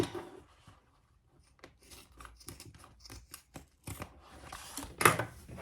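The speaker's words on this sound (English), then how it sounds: "I'm just going to cut all that off on both sides" Scissors snip fabric off the sides of a boxy bag, a series of close crisp cuts that start sparse and then come quicker, ending in a louder rustle.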